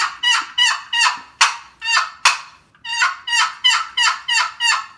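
Twelve-inch turkey box call in Spanish cedar with a paddock lid, played as a loud, close series of about fourteen raspy yelps in two rhythmic runs separated by a short pause.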